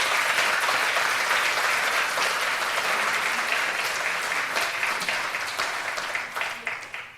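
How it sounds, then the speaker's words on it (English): Sustained applause from an audience after a book conversation event in Westchester, dense and steady for most of the stretch, then thinning into scattered claps before fading near the end. "And so another round of applause for our guests."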